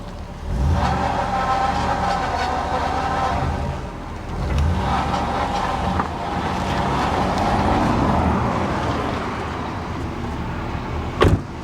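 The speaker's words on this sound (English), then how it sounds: "Yeah, there's noise from the power steering pump for sure." Power steering pump whine over a Chevy SSR engine running steadily, the whine swelling and fading in waves, close up, with a brief knock near the end.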